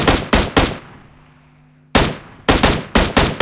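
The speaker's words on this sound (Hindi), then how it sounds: "जहाँ से बहुत फायरिंग आ रही है" Heavy gunfire in a battle royale video game, with two bursts of automatic shots at the start, a short lull, then several more loud bursts in quick succession.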